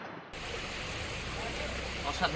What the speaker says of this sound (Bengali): কি সুন্দর ঝর্ণার আওয়াজ